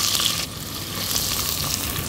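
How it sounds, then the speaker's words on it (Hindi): Onions sautéing in hot oil with peppercorns, cloves, black cardamom, cinnamon stick and bay leaf, a loud close crackling sizzle with light stirring, no voices. "मिक्स कर लेते हैं और सौते करेंगे हमारे प्याज को जब तक ये नाइस ट्रांसल्यूसेंट ना हो जाए"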